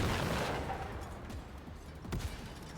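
Rockets fired in the video game Generation Zero, a few muffled booms and rumbling blasts with short sharp cracks, moderately distant over a steady low roar.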